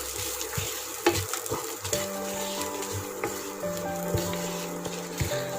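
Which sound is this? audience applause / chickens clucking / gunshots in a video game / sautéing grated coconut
sautéing grated coconut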